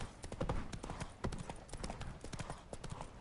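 Geralt's horse Roach runs in The Witcher 3, a quick, clear clip-clop of hooves pounding in a fast, even rhythm, fairly close and alone.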